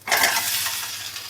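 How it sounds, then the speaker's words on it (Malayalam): A mixture containing crushed dried chillies sizzles in a pan as it is stirred, a brief close burst of frying hiss that settles into a steady crackle. "ഇതെല്ലാം കൂടി നന്നായിട്ടൊന്ന് മിക്സാക്കി എടുക്കാം"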